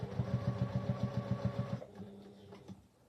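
A domestic sewing machine stitches a crossbody bag, its motor whirring in a fast, steady rhythmic chatter of regular needle strokes for nearly two seconds, then slowing into a few scattered, quieter stitches close by.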